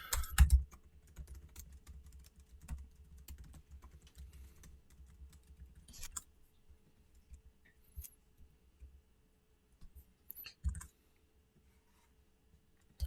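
Keys tapped on a computer keyboard while text is written into an ebook in the Sigil editor, a few quick bursts of typing early on, then scattered faint clicks over a low room hum.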